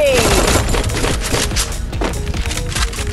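Rapid automatic gunfire in a first-person shooter video game, a loud continuous fusillade of shots filling the clip with game sounds, with someone talking over it.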